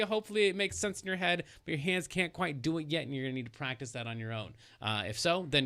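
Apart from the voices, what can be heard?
No distinct noise like a dog, phone or traffic.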